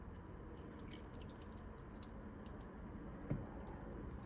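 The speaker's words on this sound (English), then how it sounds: "Pour the water on." Hot water poured onto a car door to soften the adhesive under vinyl pinstripes, a steady low liquid wash and trickle with one brief splash-like thump near the end.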